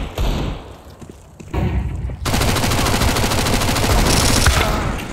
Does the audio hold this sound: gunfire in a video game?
yes